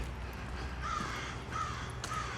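Crows caw a few times in the distance on a street in Lakeview, Regina, in March, short harsh calls over a steady background hum of outdoor noise.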